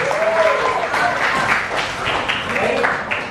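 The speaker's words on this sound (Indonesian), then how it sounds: "Mungkin bisa memberikan tepuk tangan untuk Nicholas." A class gives a round of applause for a student, with brisk clapping mixed with voices and chatter. The applause stays fairly loud throughout and tapers slightly at the end.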